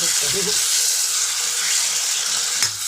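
Two chopped tomatoes sauté in a pan with a loud, dense, continuous sizzle close to the ear, ending with a brief clatter near the end.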